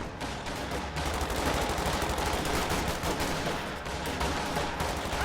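A .50 cal machine gun fires in a war strategy video game, a dense continuous roar of rapid automatic fire mixed with other battle gunfire, loud and unbroken throughout.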